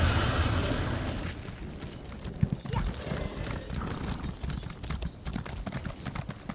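Rapid rhythmic hoofbeats of a galloping horse in a video game, continuous and fairly close, with a low rumbling background and a brief thump partway through.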